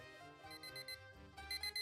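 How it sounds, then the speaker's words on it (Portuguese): A ringing alarm clock beside a child's bed sounds in bright, rapid repeating bursts, fairly close and steady, with no voices over it. "É barulho de despertador."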